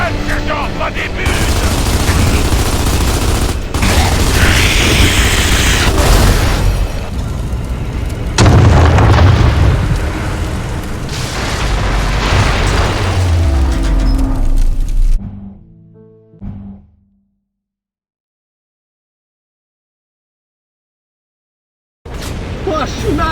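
Heavy mortar explosions and battlefield gunfire in the video game Gears of War 2, loud booming blasts and rumbling for about fifteen seconds, then a sudden cut to silence before noise resumes.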